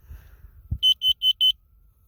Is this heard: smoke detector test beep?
yes